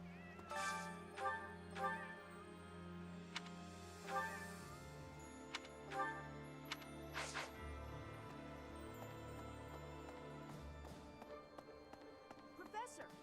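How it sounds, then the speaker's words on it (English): A cat meows repeatedly in the video game Fire Emblem Three Houses, several short mews spread across the clip over soft game music and scattered taps. "this cat is really hungry."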